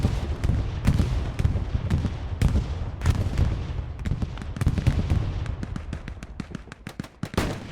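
Bombing run explosions in the Hell Let Loose video game: a dense, irregular string of sharp blasts and cracks, some close and loud and others more distant, spread across the whole span with no voices.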